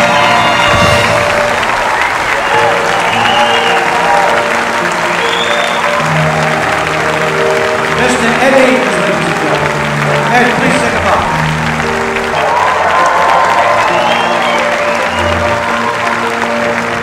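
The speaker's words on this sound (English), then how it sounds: "I'm sure he appreciated your applause like that" A loud, sustained burst of audience applause mixed with cheering and whoops at a tribute event, filling the hall continuously, with shouted voices rising through the clapping.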